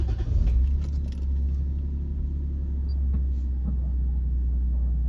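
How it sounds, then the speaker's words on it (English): A 1992–2000 Lexus SC 300/SC 400 coupe starts and settles into a steady low idle rumble, heard close and alone with a faint mechanical jingle at the start. "we're going to start the car up and look at some things"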